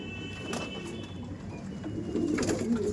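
Pigeons coo steadily in a loft kept for sale, a low layered murmur of many birds close by with occasional chirps, no talking.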